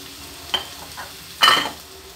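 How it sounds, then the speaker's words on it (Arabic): Onion and garlic drop into hot oil that already holds sausage, producing a short sizzle burst, then a louder hissing surge partway through, all close and without speech. "هنا غنديروا بصله بسم الله، هنا غنديروا الثوم"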